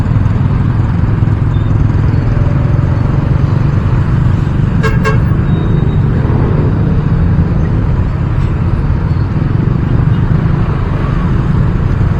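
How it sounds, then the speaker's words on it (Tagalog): Dense, steady road traffic rumbles throughout on a congested street, with a short burst of car horn honking near the middle and a fainter toot later. "Grabe traffic dito"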